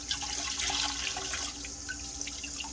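A greasy stainless steel frying pan is rinsed under a running tap, a steady quiet rush of water with small splashes and clinks.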